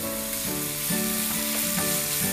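Onions sprinkled with salt fry in a pan, a bright close sizzle with soft stirring scrapes recurring through the short stretch, no voices.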